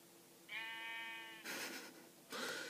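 A sheep in Minecraft Pocket Edition gives one drawn-out, quavering bleat lasting about a second, followed by two short bursts of bright noisy game sound, with no talking.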